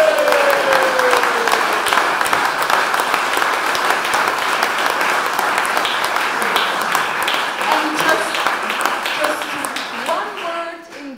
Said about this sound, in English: And I really would want everybody to join in a marvelous applause for Peter de Ant.